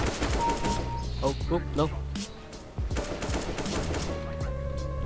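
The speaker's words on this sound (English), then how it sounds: "Someone's like shooting me." Gunfire in Counter-Strike: Global Offensive comes as bursts of rapid shots and single cracks mixed into game sounds, while a player exclaims briefly over it.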